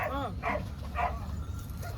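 A dog yips and whimpers a few times in short bursts, mixed with people talking nearby.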